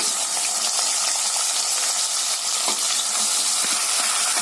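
Small and large onions with garlic fry in hot oil, giving a steady, dense sizzle with scattered crackles and light stirring clicks throughout, close and fairly loud.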